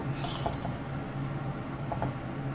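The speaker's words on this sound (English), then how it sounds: "give it a good mix" Carrot rice is stirred in a pan, with a utensil giving close, scattered clinks and light scrapes against the metal over a soft background hum, and no one speaking.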